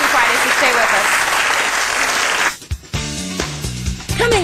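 A studio audience claps loudly in a steady, dense burst for a little over two seconds, then breaks off into a short gap and scattered sounds with a voice over them.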